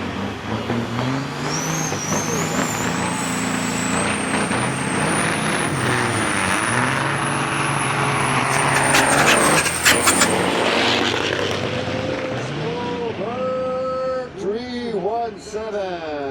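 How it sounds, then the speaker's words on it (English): An Oregon Orange Peterbilt K-cab and an International big rig truck race at Onaway Speedway, with loud, continuous diesel engine roar rising and falling as they pass, shifting pitch, and brief hisses, under an announcer's commentary. "Beautiful K-cab in that Oregon Orange Peterbilt, going up against that International Mike Sofa in the Frankenstein."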